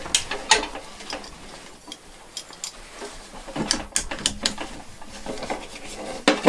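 Canvas strap being latched onto a WW2 US packboard loaded with ammo tins, a run of sharp clicks, taps and metallic clinks in irregular bursts at close range.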